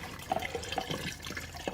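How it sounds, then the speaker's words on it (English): Water poured into a bottle through a funnel makes a soft, bubbling trickle with small irregular gurgles and drips, fairly quiet and close. "I'm putting water in the bottle, and I'm cleaning out this funnel right here."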